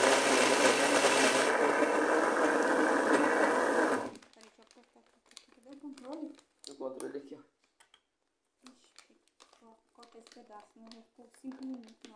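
Blender loudly whirring as it mixes a strawberry-flavoured supplement, running steadily for about four seconds and then stopping, followed by a person talking and soft clinks and handling sounds.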